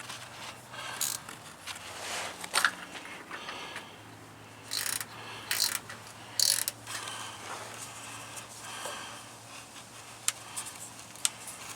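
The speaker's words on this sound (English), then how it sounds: "I wouldn't mind having a gear wrench." A gear wrench ratchets while working on a transmission being swapped, giving soft mechanical clicks and ticks in short bursts with a few sharp metallic snaps, moderately quiet with pauses between strokes.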